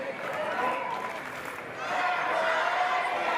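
A crowd at a combat sports event cheers steadily and fairly faintly in the background, with the roar swelling louder about halfway through.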